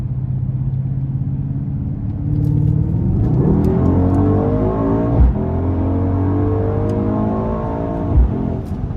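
A 2021 Mercedes-AMG GLS 63 SUV with a 603 hp 4.0-litre twin-turbo V8 accelerates hard under full throttle, the engine note climbing steadily through rising revs, with brief dips at gear changes, loud and close from inside the cabin.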